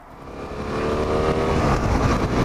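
A 2014 BMW F800R motorcycle engine builds in pitch and loudness while riding, a close, rising revving drone over steady wind noise.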